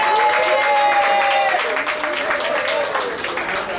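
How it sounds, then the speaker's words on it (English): Audience applause at a book fair literary evening, a dense, steady wash of clapping filling the room for about four seconds, with a few voices and tonal sounds mixed in. "round of applause"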